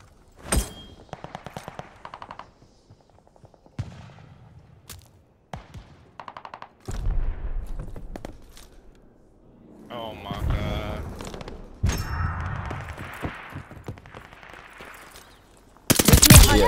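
Heavy gunfire in a first-person shooter match: loud bursts of automatic fire and single shots come in uneven clusters, with a dense blast near the end, while players talk over the action.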